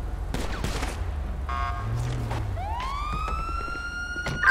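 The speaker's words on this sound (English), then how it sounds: "Shots fired." Gunfire in a GTA 5 FiveM police roleplay game: a quick burst of sharp shots at the start under a wailing police siren, with more scattered pops as the siren keeps rising and holding.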